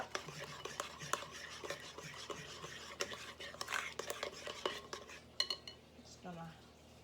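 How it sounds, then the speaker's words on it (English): A spoon stirs cake batter in a bowl, soft repeated clinks and scrapes in an uneven rhythm, close but faint, with a person whispering or speaking quietly underneath. "Stir that up."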